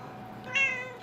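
A house cat kept in a hotel room lets out a single short, high meow, faint and brief over a low steady room hiss.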